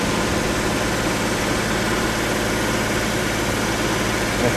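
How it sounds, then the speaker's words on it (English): An engine-driven air compressor runs at raised RPM, roughly 1500 to 2000, while inflating from 10 psi, giving a steady loud droning engine roar with constant vibration and no talk. "We're going to air it up here with a little higher RPM"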